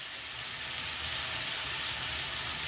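Tomatoes sizzle steadily in a pan for a clay-pot paneer dish, a continuous close frying hiss with no talk over it.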